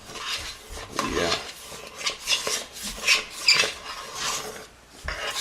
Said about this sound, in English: Scrape it right up till you got bare metal.